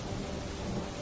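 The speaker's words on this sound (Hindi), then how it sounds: "बारिश की आवाज आ रही थी" Steady rain falls through a quiet night setting, a dense, even hiss with a low rumbling undertone like distant thunder, unbroken for the whole second and with no voices.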